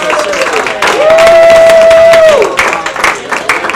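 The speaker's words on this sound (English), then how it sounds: "Let's have one more round of applause" Applause and cheering from an audience at a closing ceremony, dense clapping throughout with a long sustained whistle rising over the middle before the crowd noise thins.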